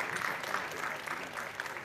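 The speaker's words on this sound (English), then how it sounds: "a round of applause" Brief steady applause from a conference audience, a dense patter of clapping without pauses.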